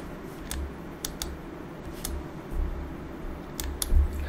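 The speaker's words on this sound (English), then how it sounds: "I'm using Alt and W on the keyboard to spin it around." Computer keyboard keys pressed during a Digital Combat Simulator session: sparse, sharp clicks spaced about half a second apart, fairly close, over a steady low hum with no talking.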